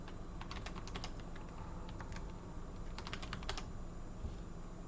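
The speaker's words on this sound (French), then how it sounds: "on rentre des caractères qui ont la même place sur le clavier français et américain" Keys clatter steadily on a computer keyboard as characters are entered during a Debian-based Linux install, bursts of close clicks over a constant hum, no voices.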